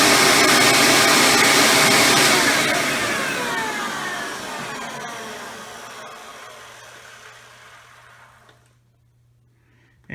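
A Hoover Elite 350 vacuum motor running without its belt, loud at first, then winding down with a falling whine that fades over several seconds to a quiet hum before a click.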